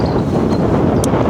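Gusting wind of about 10 to 20 miles per hour buffets the microphone on a golf course, a loud, continuous rumble with no one speaking.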